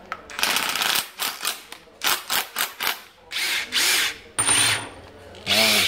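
A cordless hammer drill runs in a series of short bursts, several quick pulses followed by longer whirring runs, loud and close with brief pauses between.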